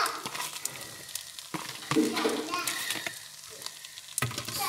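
Coconut fried rice being stirred in a pan, giving a soft continuous sizzle with scraping and stirring strokes at an irregular pace, fairly close and quiet.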